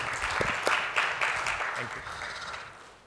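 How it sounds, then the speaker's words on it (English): Audience applause at a technology summit awards event, a moderate steady clapping from a seated crowd that gradually fades toward the end. "Can we have a round of applause, please?"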